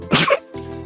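A single sharp, loud sneeze from a character in the detective game Master Detective Archives: Rain Code, caused by soot in the nose, followed by a faint trailing breath.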